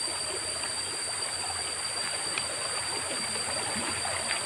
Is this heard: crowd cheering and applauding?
no